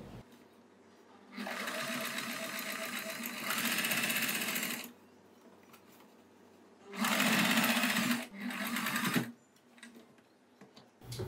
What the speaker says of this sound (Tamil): இந்த ஓரமாக அப்படியே டாப் ஸ்டிச் போட்டு வந்துடும்.